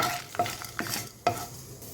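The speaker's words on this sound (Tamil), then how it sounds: "மிளகு காஞ்ச மிளகாய் இதெல்லாம் கொஞ்சம் வாசனை வர வரைக்கும் கொஞ்சம் கலர் மாற வரைக்கும் வறுத்துக்கணும்" Peppercorns, fenugreek and dried red chillies being stirred and dry-roasted in a pan, with a soft steady sizzle and a few scraping stirs at a close, even level, no voices.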